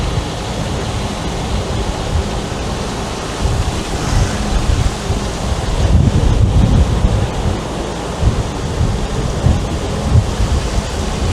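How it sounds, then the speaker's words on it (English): Strong gusting crosswind buffeting a microphone outdoors, a steady low roaring rumble that swells and surges in places, with no voices. "That crosswind is fierce."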